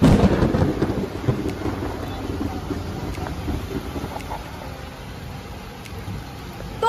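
Thunder rumbles through a rainstorm, with steady rain hissing throughout and a loud crash of thunder near the start before it fades to a lower, continuous downpour.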